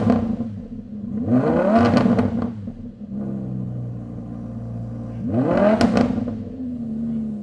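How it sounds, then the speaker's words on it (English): Custom car with a modified exhaust revving hard after a cold start, two sharp rising revs that swell loudly and fall back into a throaty idle between them, close and alone. "Can we hear a cold start, maybe some revs?"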